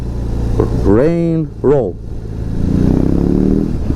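A BMW R 18 B bagger motorcycle engine revs in roll riding mode, two short throttle blips rising and falling before settling back to a steady idle rumble, heard close and loud with a person talking over it.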